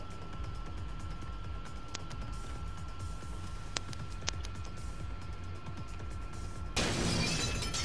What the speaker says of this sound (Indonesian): Suara pecah.